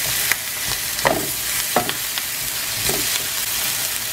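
Cauliflower rice frying in a hot pan, a loud steady sizzle with occasional stirring scrapes and crackles, heard alone without voices.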